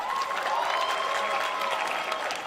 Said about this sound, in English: We have Chris Malin, Medina Diaz, clap it up.